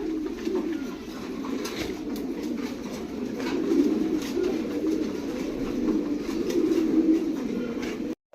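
Blue barless pigeons coo in a steady, throaty murmur from several birds close by, rising and falling in soft rolling phrases over a faint background hum.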